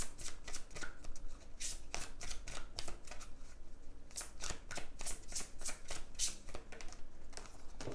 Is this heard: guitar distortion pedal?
no